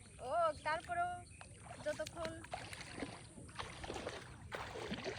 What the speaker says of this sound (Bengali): এই হচ্ছে আমাদের নৌকা, এই নৌকায় করে আমরা এই যে দূরে এই দিক দিয়ে আমরা এখন ঘুরবো।